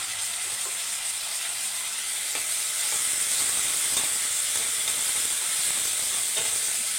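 Onions sautéing in a pan, a steady close sizzle and hiss with occasional soft stirring scrapes, no voices.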